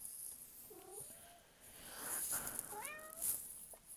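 A house cat meows twice, a short call and then a longer rising one, close and clear in a quiet room with faint background noise and no talk.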